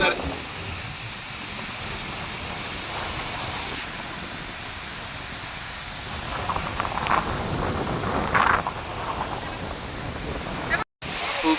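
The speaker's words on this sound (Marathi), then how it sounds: "एकदम डोंगर मध्ये असलेला हा धबधबा आहे" A mountain waterfall, Munjaba (Dhurnali) falls near Otur, roars as a steady broadband rush of falling water close by, with some louder splashy bursts toward the end.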